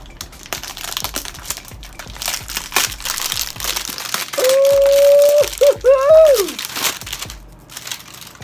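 Crinkling of wrapping paper as a pair of Air Jordan 1 Shadow sneakers is unwrapped, with close rustling and crumpling bursts and a brief squeaky whistle-like tone midway.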